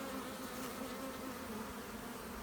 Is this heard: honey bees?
yes